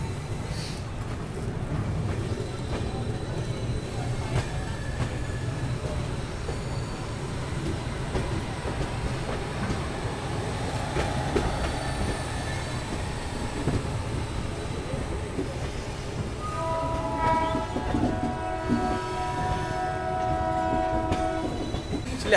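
A Darbhanga–New Delhi special train pulls away, with a steady loud rumble of the rail cars and a sustained horn blast near the end, heard alone without talk.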